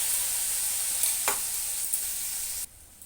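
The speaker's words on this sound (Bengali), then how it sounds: "মশলাটা আমি কষিয়ে নেব" Ground chili and onion paste frying in a pan gives a steady close sizzle with a few brief scraping stirs, then drops sharply quieter near the end.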